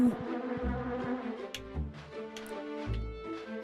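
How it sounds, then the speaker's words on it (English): Insect buzzing from bees in The Grinch on PlayStation 1, a thin drone under low game music and several soft thumps, moderately loud with no voices. "I'm not beset by bees."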